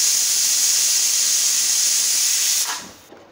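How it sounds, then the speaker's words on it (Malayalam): A pressure cooker holding chicken vents steam in a loud, steady, close hiss that cuts off abruptly near the end, with no voices. "നമ്മുടെ കുക്കറിൻ്റെ ആവിയെല്ലാം പോയി"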